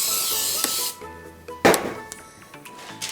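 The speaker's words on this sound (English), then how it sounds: "I spray them with baking spray with flour" Baking spray with flour hisses from an aerosol can onto cake pans in a single near, steady burst of about a second, followed by a clunk of the pan, with soft music playing underneath.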